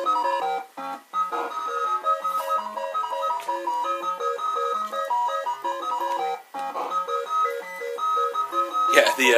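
Tetris theme music plays from a BAS JAMMA arcade cabinet, a bright chiptune melody with steady, busy notes that runs continuously at a fairly loud level, with a short break partway through.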